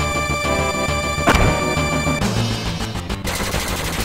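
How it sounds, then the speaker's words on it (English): Beam guns fire in Final Fantasy VII during a train escape: loud, rapid gunfire bursts and crashing impacts over steady game music, with a sharp heavy burst partway through. "Enough with the beam guns!"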